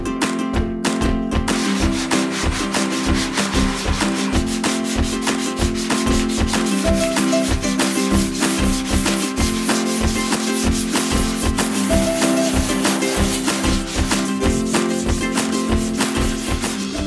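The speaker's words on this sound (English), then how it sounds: "then we'll move on to sanding again" Sanding car body filler: steady, rhythmic back-and-forth rubbing strokes, close and continuous throughout, with no one talking.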